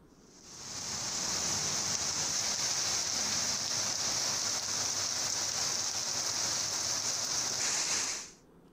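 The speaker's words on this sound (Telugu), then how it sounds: "మరికొన్ని ప్రాంతాల్లో కూడా మోస్తారు వర్షం కురుస్తోంది" Heavy rain pours down in Hyderabad as a dense, even hiss that swells in, holds steady for several seconds and then drops away, with no voices over it.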